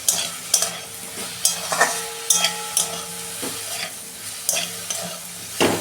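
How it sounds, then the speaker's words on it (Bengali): Cauliflower frying in a pan with onion and green chilies, a steady sizzle broken by periodic scraping stir strokes, close and fairly loud, with no talk. "দু মিনিট আমি কপিটা ভেজে নেব।"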